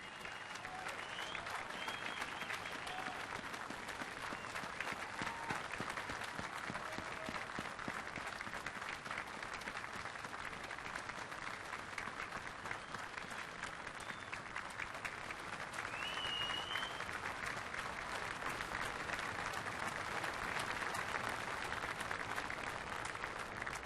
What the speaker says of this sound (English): Ladies and gentlemen, please give them a round of applause and recognition for their hard work, dedication, and service to this great nation